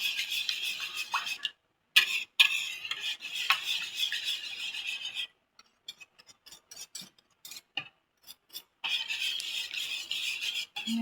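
Eggs being stirred in a bowl give off quick scraping, clinking strokes in close bursts separated by brief pauses, with no talking.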